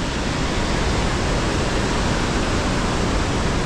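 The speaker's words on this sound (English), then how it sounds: "melodic sound of the river gushing around you" Steady, loud roar of a river gushing beside a tea house on the Langtang trek in Nepal, a dense continuous rush of water with no breaks and no voices.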